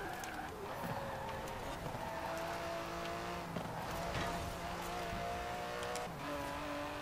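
Aston Martin DBS Superleggera 2019 in Forza Horizon 4, its engine droning steadily with layered tones that climb and shift through gear changes, loud and continuous throughout with busy game ambience.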